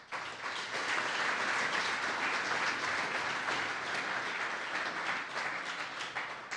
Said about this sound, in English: I think that's worthy of applause.